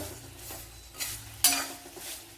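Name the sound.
papadam pieces frying in oil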